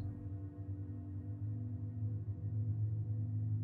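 A VCV Rack patch routed through Oliverb's heavily colored reverb and then a time stretcher yields a steady, subtle low drone of smeared harmonic tones, sustained and fairly quiet, with no speech.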